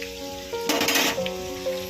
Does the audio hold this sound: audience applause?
no